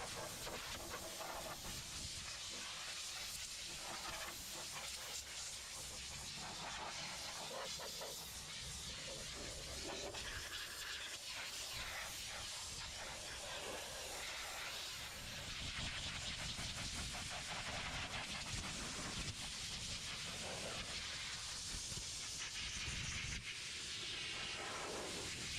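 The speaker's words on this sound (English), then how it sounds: "I immediately grab the air chuck, forced air, and dry the compartment" An air chuck blasts forced air to dry a freshly rinsed compartment, producing a continuous loud hiss with fluctuating intensity throughout, without talk.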